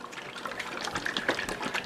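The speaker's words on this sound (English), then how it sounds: "he's gonna pour it into this measuring cup" Marinade poured from a jar into a measuring cup for a turkey, a soft liquid trickle and gurgle running steadily throughout, close and fairly quiet with no talking.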